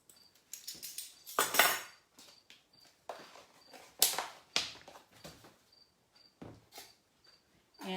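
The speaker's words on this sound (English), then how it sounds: "And you're just going to stir that around." A spoon scrapes and clinks around a bowl of blueberry yogurt muffin batter in a run of uneven, brisk strokes, some sharp and bright, others soft, with a faint high chirping tone recurring in the background.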